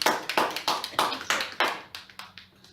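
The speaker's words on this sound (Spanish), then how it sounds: "Dale un fuerte aplauso al Señor." A church congregation applauds in quick, even rhythm, with about a dozen sharp clap bursts that fade out near the end, close and fairly loud, with no talk.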